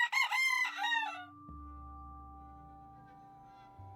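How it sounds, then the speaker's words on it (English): An old farm rooster crows once, loud and close, the call trailing off into a low steady hum. "Our old rooster crows not only as the sun rises"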